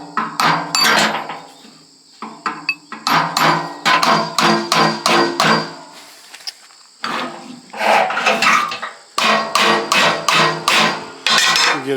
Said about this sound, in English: We'll get a bigger hammer.